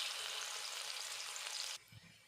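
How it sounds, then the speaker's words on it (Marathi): Garlic sizzling in hot oil in a kadhai, a steady loud frying hiss that cuts off abruptly near the end, leaving faint low clatter. "लसूण टाकून घेते।"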